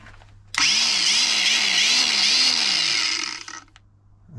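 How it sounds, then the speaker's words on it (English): An angle grinder cuts through a motorcycle exhaust pipe, a loud, steady high-pitched whine with a wavering pitch, starting abruptly and running for about three seconds before spinning down, with no talk. "Now I'll get the angle grinder"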